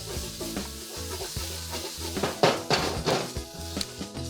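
Garlic sautéing in a pan for a beef and broccoli stir fry gives quiet sizzling under repeated scraping and clinking of a utensil against the pan, in uneven bursts.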